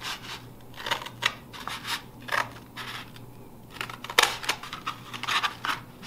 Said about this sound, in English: I'm going to cut all the way down the edge of both sides of this paper towel roll